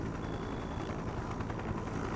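Helicopter in the video game Just Cause 3, a steady rumbling rotor and engine drone that holds evenly throughout, with a faint high tone early on.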